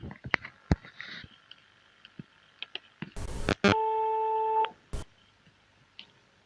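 Synthesized test tones: the note A mixed with another added tone, heard as a steady multi-tone chord held for about a second, surrounded by scattered clicks and short bursts.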